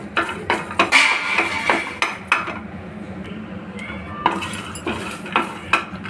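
A spoon clinks and scrapes against a metal pan as coriander seeds are dry-roasted over a low flame, sharp irregular metallic knocks and stirring scrapes, close and fairly loud.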